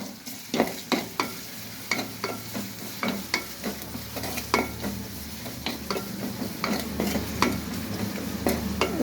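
Small bata fish fry in a pan with salt, a close, soft sizzle under frequent sharp scraping and tapping from a spatula stirring the fish.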